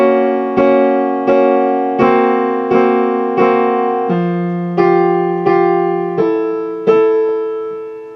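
Piano playing the left-hand accompaniment of Khachaturian's Waltz from Adventures of Ivan, a steady waltz pattern of low bass notes and chords struck roughly every two-thirds of a second, clear and close with no talking.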